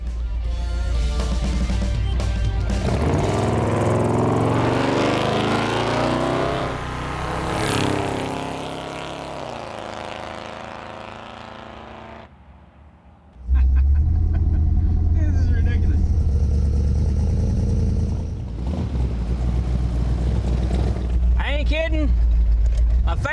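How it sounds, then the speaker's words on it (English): An old hearse built as a drag car roars down the drag strip. Its loud, rumbling engine runs steadily for about twelve seconds, dips briefly, then surges back at full volume. "This old hearse won't run anywhere near that, but we did bring this thing here to stretch its legs out on the pavement"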